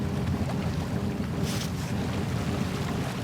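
A sailboat's sail flaps as the boat turns head to wind, with a steady rush of wind across the microphone and water. The flapping is near and continuous and holds throughout, with one brief brighter flutter, and no one speaks.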